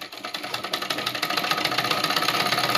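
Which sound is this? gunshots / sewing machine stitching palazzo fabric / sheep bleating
sewing machine stitching palazzo fabric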